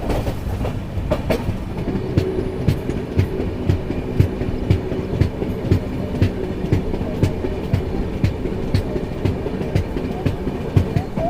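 A Link Express train runs steadily through a junction, its wheels clicking in a regular clickety-clack rhythm over rail joints against a continuous rumble, heard from on board and sustained throughout.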